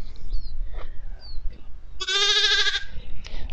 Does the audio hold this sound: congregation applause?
no